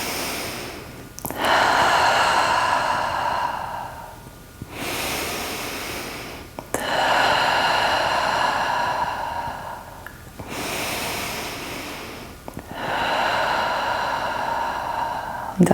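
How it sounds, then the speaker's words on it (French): A person in a guided meditation session takes deep, slow breaths, drawing air in through the nose and letting it out through the mouth, with long, close, loud airy exhales alternating with quieter pauses. "on prend 3 profondes inspirations par le nez, ensuite on expire par la bouche."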